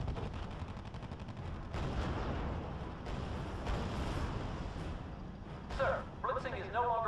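Battlefield gunfire in the strategy game R.U.S.E. crackles steadily as units come under attack, dense shots and blasts mixed in a continuous din, with radio-style voices speaking near the end.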